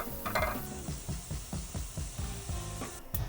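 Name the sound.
garlic sautéing in pan over medium-high heat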